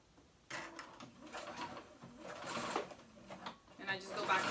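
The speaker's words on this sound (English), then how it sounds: "I'm gonna do a zigzag stitch, and I'm gonna stitch it together" A home sewing machine running a zigzag stitch through dress fabric, whirring steadily in short uneven bursts at close range while someone talks over it.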